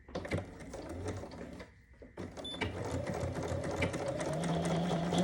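A sewing machine runs steadily, stitching the short end of a fabric half apron. A brief pause in the middle is followed by continuous close, moderately loud whirring with rhythmic needle clatter.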